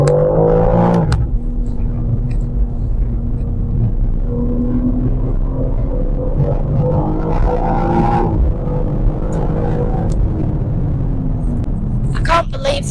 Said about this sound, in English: just listen to that beautiful 3-litre straight 6 engine